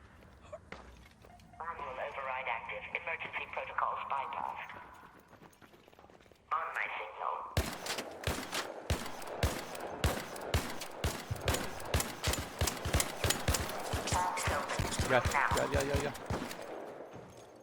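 Gunfire from the video game Arc Raiders arrives after a few seconds of quieter sound as a long string of loud, rapid shots with uneven spacing that keeps going to the end.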